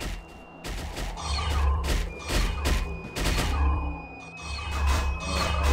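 Gunfire in the anime-themed online battle game 300 Heroes, a rapid series of sharp bursts and impacts over steady background game music and a high tone, loud and continuous.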